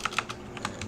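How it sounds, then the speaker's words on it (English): Computer keyboard typing, a quick run of light, close key clicks in an uneven rhythm, fairly soft. "I'll just write sort of a paragraph tag and type test"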